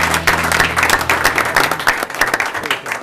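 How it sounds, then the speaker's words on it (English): Applause for Ms. Karin Callan at a Douglasville city council meeting: a dense, steady wash of many hands clapping that fills the whole stretch without a break. "Let's give Ms. Callan a round of applause"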